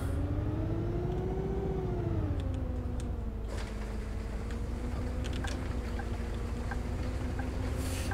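A city bus engine drones steadily in Bus Simulator 18, holding a low hum with a slight rise and fall in pitch as it drives. A few faint clicks sound over it, with no talk.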